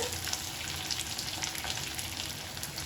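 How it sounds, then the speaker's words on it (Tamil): Small shallots sautéing in hot oil with garlic and curry leaves for bitter gourd kuzhambu, a steady dense sizzle with fine crackles throughout, close and continuous, no voices. "அதனால் சின்ன வெங்காயம் போட்டு நல்லா வதக்கிக்கோங்க."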